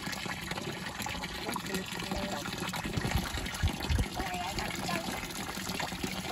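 Water splashing and trickling steadily, as if poured from close by, with a few low thumps partway through.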